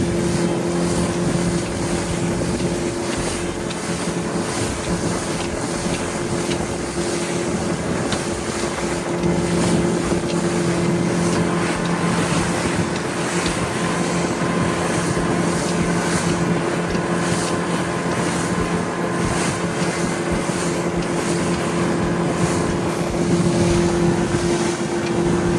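A MacGregor 26 sailboat motors under outboard power toward St. Simons Sound, a constant engine drone and tonal hum mixed with heavy wind buffeting and water rush, steady throughout with no talk.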